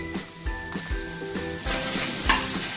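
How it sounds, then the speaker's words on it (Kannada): Dried coconut, cumin and curry leaves fry in a pan for green tomato chutney, with a bright, close sizzle broken by rhythmic stirring scrapes about twice a second. "ಆಮೇಲೆ ಒಣ ಕೊಬ್ಬರಿ ಆಮೇಲೆ ಸ್ವಲ್ಪ ಜೀರಿಗೆ ಇವೆಲ್ಲ ಚೆನ್ನಾಗಿ ಫ್ರೈ ಆಗಬೇಕು"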